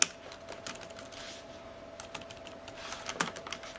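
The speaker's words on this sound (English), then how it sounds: "Let's start typing here." Typing on the compact chiclet keys of an Aukey KM-B4 detachable keyboard case for an iPad Air: quiet, close, irregular plastic key clicks in quick bursts over a faint background hiss.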